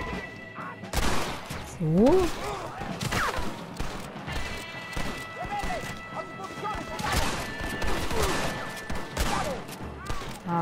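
Gunfire in the video game Red Dead Redemption: several sharp, loud shots spread across the stretch, mixed with game sounds and someone talking over them.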